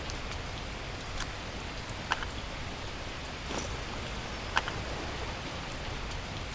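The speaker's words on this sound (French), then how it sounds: "Il pleut." Steady rain falls in the video game The Last Plague: Blight, an even wash of drops on surfaces with a few sharp ticks and taps standing out, no talking.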